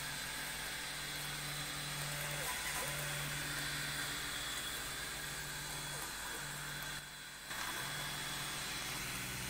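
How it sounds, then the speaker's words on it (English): Air compressor running at full power beside a Creality Falcon2 22W LED laser engraver, a steady, close, buzzing drone with a constant hum that holds throughout, dipping briefly near the end. "I decided to run compressor in full power"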